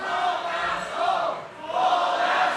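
Crowd noise at a pro wrestling championship event, a broad sustained roar of many voices that swells, dips briefly, then rises again, fairly loud throughout.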